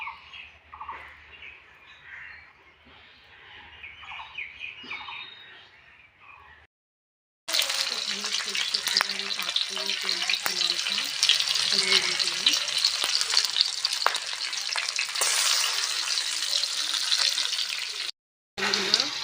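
Potato, drumstick and masoor dal with cabbage sizzling in a pan, a quieter stretch giving way to a louder, steady hiss of frying with stirring noises and a brief cut near the end.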